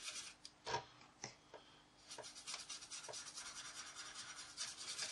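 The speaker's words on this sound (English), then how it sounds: "nice circular motions just to rub it in and get it into all those panel lines" Weathering powder rubbed in circular motions onto a model aircraft wing, worked into the panel lines: faint, close, dry scratchy rubbing strokes, a few sharper scrapes early on, then steady soft friction, with no voices.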